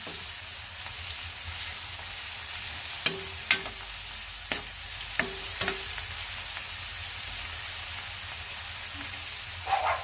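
Tomatoes sauté in a pan for a Filipino sarciadong tulingan dish, a steady sizzle of frying running throughout, broken by a few sharp clicks of a utensil against the pan.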